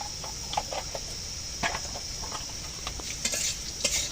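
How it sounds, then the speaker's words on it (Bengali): Potatoes fry with turmeric in a clay pot, a close, steady sizzle punctuated by repeated light scraping and tapping strokes of a stirring utensil. "আলুগুলো একটু ভালো করে ভেজে নিলাম।"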